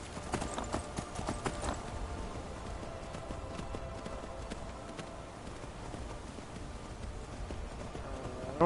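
Skyrim horse hooves clip-clopping in a steady, close rhythm as the rider picks a way down steep ground, with faint game ambience behind and no talk.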